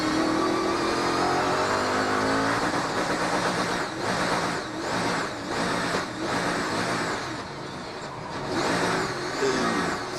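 Onboard race car at the Rolex 24 at Daytona with a driveline or main shaft fault, its engine revving loudly and steadily close up, the pitch rising and dipping in waves without clean gear changes.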